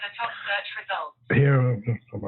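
A phone's speaker voice talks in short bursts with pauses, sounding thin and band-limited like a call or voice assistant, close by and fairly clear.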